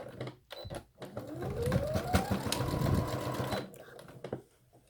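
A sewing machine stitches an invisible zipper with a back stitch at the start, first in a few short bursts, then in a steady run of rapid stitching that rises in pitch as it speeds up, close and moderately quiet.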